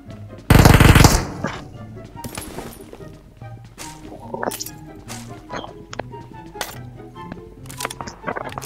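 Gunfire in the battle royale game PUBG Mobile: one loud close burst of shots, then scattered fainter reports and clinks while players talk over the action.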